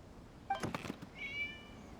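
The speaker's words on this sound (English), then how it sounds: "It was just a cat." A cat meows once in the Genshin Impact game during the Irodori Festival, a short faint call following a few soft thumps, with a brief rising tonal flourish after it.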